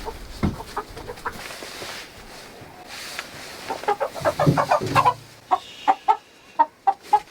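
Several chickens cluck nearby, with scattered rustling at first, then a run of short, rhythmic clucks growing louder and more distinct toward the end.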